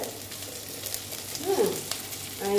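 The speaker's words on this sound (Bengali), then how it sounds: "দেখো এটা মোটামুটি ভাজা হয়ে এসছে" Potatoes for aloo dum fry in a pan with a steady, close crackling sizzle that swells briefly midway and again at the end.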